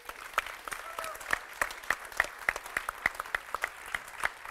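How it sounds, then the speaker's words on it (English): An audience gives applause for guest speaker Mr. Sijbesma, CEO of Royal DSM. Individual claps come through in a fairly regular rhythm over a light room bed, sounding like a modest crowd rather than a roaring hall. "give a very warm round of applause for Mr."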